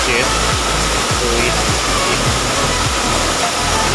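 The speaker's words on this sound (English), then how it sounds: "hear those sounds of water, very noisy. So it's a small waterfall, not too big." Small Amsing Waterfall near Guwahati in Assam roars close by as a loud, steady rushing hiss of falling water, with faint low thumps underneath and no clear speech.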